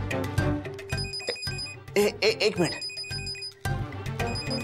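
A telephone rings with repeated bright electronic tones in short bursts, and a person speaks briefly in the middle of the ringing.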